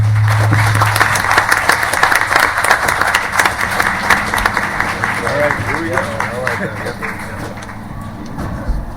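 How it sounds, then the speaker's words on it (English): An audience at a League of Women Voters candidate forum for Alaska House districts gives a steady round of applause for the candidates, the clapping sustained throughout with a voice briefly heard over it midway. "I'd just like to start a big round of applause for our candidates"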